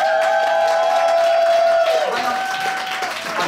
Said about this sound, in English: big round of applause for the birthday girl